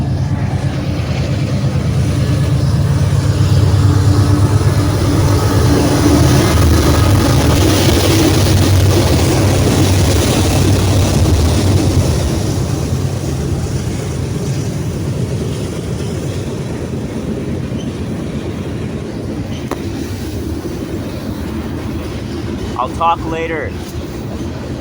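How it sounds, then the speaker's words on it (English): A loud, low rumbling roar of a passing train fills the first half, then gradually fades, with a brief spoken remark near the end. "and now there's another train coming."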